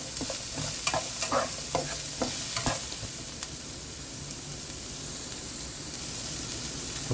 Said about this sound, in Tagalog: Sunod po natin ang sibuyas. Haluin lang po natin.